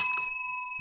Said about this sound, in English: just ring this bell?